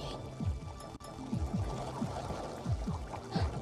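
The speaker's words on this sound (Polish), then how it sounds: "A to właśnie nazywa się strumień." Water flows and gurgles steadily in a stream, a continuous close bubbling wash with small rhythmic splashes throughout, no voices.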